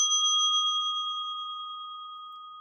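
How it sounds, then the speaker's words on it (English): Electronic alert bell on a live trading desk, a steady tone with several clear pitches that rings out and slowly fades over a couple of seconds, alone with no talk. "At least the bell works."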